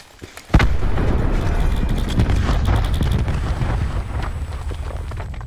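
Grenade blast in Call of Duty: Black Ops 4 Blackout, a sudden loud boom followed by a sustained heavy rumble and crackling debris that fills the rest of the moment.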